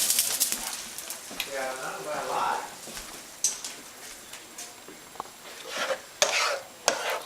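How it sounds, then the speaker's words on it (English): Heated beef stock is poured into a pan of shepherd's pie filling, giving a sizzling, stirring liquid sound with a few clinks of utensils, moderately close, under intermittent background speech. "Now that the beef stock is heated, we are ready to put it into the pan."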